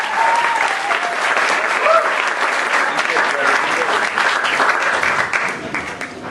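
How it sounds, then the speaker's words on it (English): Audience applause at a poetry reading, a dense steady clapping from a crowd that continues at full strength throughout, with faint voices mixed in. "Give it up for Miller! Clap, clap, clap!"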